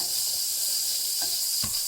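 Mac and cheese sizzles steadily in a hot pan with a bright, constant crackling hiss, and a couple of soft utensil clinks.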